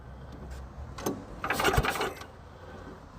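An old Craftsman wood chipper engine being turned over for a compression check gives a few close popping bursts in the middle amid rasping, rubbing mechanical noise.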